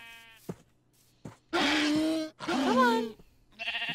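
Video-game sheep let out two long, loud bleats close up, with a brief spoken line at the start and a short third bleat at the end.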